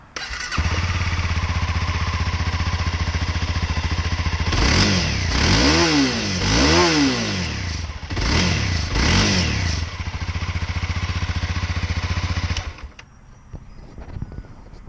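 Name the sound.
Honda CBR300R motorcycle engine starting up and revving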